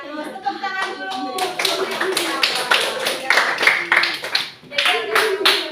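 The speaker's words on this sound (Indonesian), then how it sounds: "Tepuk tangan dulu." Students in a primary classroom clap together for a classmate, a few seconds of brisk, somewhat uneven hand claps close by, with children's voices chattering underneath.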